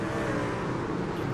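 Race truck engines in the iRacing video game at Daytona rev and roar together as a steady, loud mechanical drone, with no one talking.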